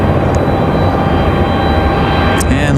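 An Avelo Airlines jet airplane departing runway 23 left at Raleigh-Durham International Airport, a loud, steady broadband engine roar with no break, heard close and continuous.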